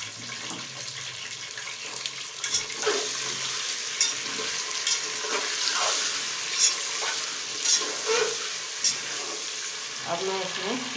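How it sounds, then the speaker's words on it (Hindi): Goat meat frying in a pan with ginger and garlic, a continuous close sizzle with repeated scraping and clinking of a stirring spoon over about eleven seconds. "अब मैं इसमें अदरक लहसुन डाल के इतना भूनूंगी कि ये गोश्त का पानी भी खुश्क हो जाए और गोश्त का कलर चेंज हो जाए"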